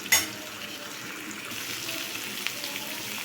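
Spiny gourd (kankoda) frying in a pan while being stirred gives a steady, soft sizzle with a sharp scrape near the start and faint utensil taps throughout, close and fairly quiet.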